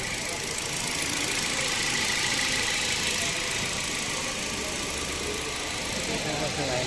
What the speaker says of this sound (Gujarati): ગાડી ચાલુ થઈ ગઈ છે।